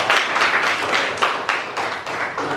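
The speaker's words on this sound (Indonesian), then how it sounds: "tepuk tangan buat Mas Fatihah" Classroom applause for a student named Mas Fatihah, a short burst of dense, fairly close clapping from a group of pupils lasting a couple of seconds, with steady irregular hand claps and no talk over it.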